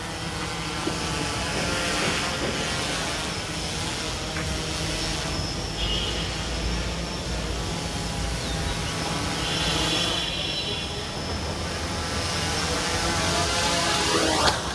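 Steady broadband whine and rotor hiss of a drone flying and coming in to land on a rooftop, continuous and fairly loud throughout with faint wind and background noise and no talking.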